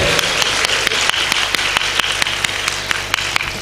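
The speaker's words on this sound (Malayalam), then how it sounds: "കൈയടിച്ച് കർത്താവിന് മാത്രം കൊടുത്തേ" A church congregation claps hands together in praise of the Lord, a steady, even rhythm of sharp claps about four per second, close and fairly loud with a wash of room noise beneath.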